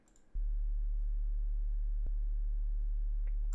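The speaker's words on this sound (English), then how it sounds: "just a very, very low sine wave, and to show you how low it is, it's on D2" A very low sine tone on D2 from an FM8 synthesizer starts abruptly after a faint hiss and then holds as a steady, pure, deep hum, with a single small click partway through.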